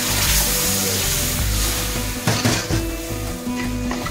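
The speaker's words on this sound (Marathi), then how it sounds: "त्याच्यात आपण घेतलं ते म्हणजे पाणी टाकू" Water poured into a hot pan of cooked onion for a stuffed brinjal curry, a loud, close sizzle and hiss with some clatter of the pan that continues steadily throughout.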